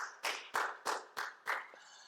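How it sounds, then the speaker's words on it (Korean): A church congregation claps during a worship service, five distinct bursts of hand claps spaced about a third of a second apart, moderately close and fading out at the end. "우리 하나님께 영광의 박수 올리겠습니다."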